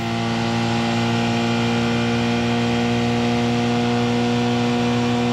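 Porsche 919 Hybrid race car at full acceleration at Le Mans, heard from on board in seventh gear well over 300 km/h, a loud, steady, sustained engine drone with strong harmonic tones and no talk.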